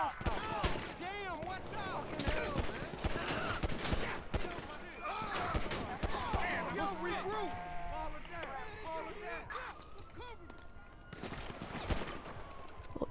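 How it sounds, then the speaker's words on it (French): Heavy gunfire erupts from every direction during a GTA 5 street fight in a rough neighbourhood, dense and rapid with overlapping bursts throughout, while someone talks excitedly over it. "Oh purée, ça tire de tous les côtés là."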